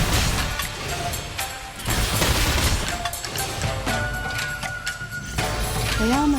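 Gunshots ring out in the video game Reverse:1999, a rapid mix of sharp cracks and bursts of fire over game music and tonal effects, with a voice speaking briefly among the shots.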